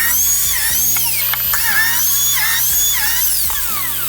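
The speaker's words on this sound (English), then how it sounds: "I reached for my cheap biscuit jointer and then added some biscuits" A cheap biscuit jointer cuts slots into wooden panels, its steady high motor whine loud and close, with repeated plunges that bend the pitch and brief knocks between cuts.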